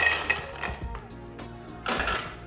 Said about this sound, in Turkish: İlk olarak bardağımıza buz ekliyoruz